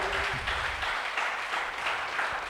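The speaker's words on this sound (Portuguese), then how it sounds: "Você pode aplaudir o nome dele?" A church congregation at a Bible study applauds together, a steady wash of clapping that holds evenly throughout at moderate distance, with no voices standing out.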